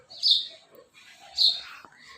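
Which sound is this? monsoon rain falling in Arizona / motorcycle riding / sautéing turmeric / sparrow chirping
sparrow chirping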